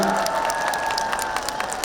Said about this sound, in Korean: 우리 그분들께 큰 박수 한번 보내드릴까요?